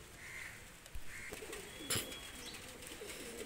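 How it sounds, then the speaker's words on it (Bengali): Old-generation pigeons in Khulna cooing softly in short, low repeated phrases, fairly close, with a few faint thumps and light background noise and no talking. "এক পেয়ার দেখেন বিদ্যুৎ জেনারেশনের কবুতর"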